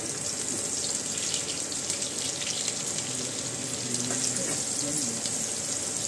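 Chopped onion, green chillies and curry leaves frying in oil in a pan for kanda poha, giving a soft, steady sizzle throughout.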